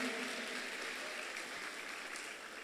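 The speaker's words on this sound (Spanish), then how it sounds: "vamos a darle un fuerte aplauso." Audience applause at an International Dance Day event at a fine arts venue, a faint, steady patter of clapping from a crowd, softening slightly as it ends.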